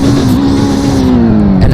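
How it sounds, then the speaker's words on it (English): A Mitsubishi Evolution engine in the video game Greenville holds a loud, steady drone that sags slightly in pitch over under two seconds, close and continuous with no voices. "this one actually has engine sounds for once, so let's do a rev test."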